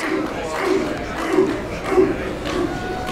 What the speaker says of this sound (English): And you hear the chant.